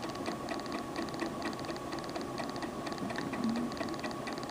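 A sewing machine stitches a buttonhole in fabric with a steady, quick mechanical chatter and a rapid regular ticking rhythm throughout. It is close and moderately loud, with no talking.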